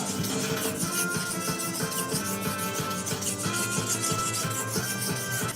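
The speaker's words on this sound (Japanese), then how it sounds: "こういう方向に研いでおります。" A single bevel kitchen knife is stroked back and forth on a medium whetstone, making a continuous close gritty rasp in quick repeated strokes, with no talking.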